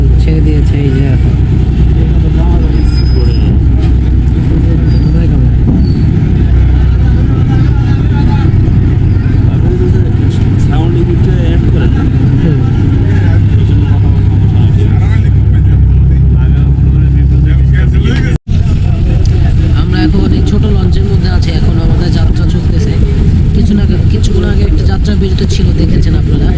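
A passenger launch engine drones steadily, loud and close, as the ferry pulls away on a river crossing in Bangladesh, with someone talking over it.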